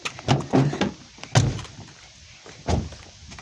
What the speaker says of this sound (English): I'm gonna close the door, Mario.